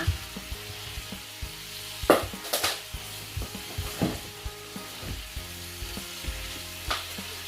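Shrimp frying in oil in a pan, a steady close sizzle broken by sharp stirring scrapes and clinks of a utensil against the pan.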